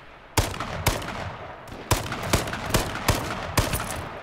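Gunfire in the video game H1Z1 sounds as a series of sharp, loud single shots spaced roughly half a second apart, each cracking out over a low background hum with no voices.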